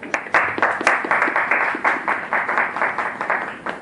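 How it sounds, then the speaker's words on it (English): An indoor audience gives steady, close applause with dense, even clapping throughout, welcoming the Mrinal Cup-winning Black Hawks team at a Club Sankalp conversation event. "big round of applause for all of yours"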